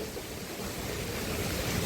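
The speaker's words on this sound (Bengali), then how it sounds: "এমন ঝড় উঠছে দেখুন অনেক ঝড় বাতাস হয়েছে" Strong storm wind roaring steadily into the microphone outdoors near a park, a dense rumbling rush that swells slightly toward the end, with no talk.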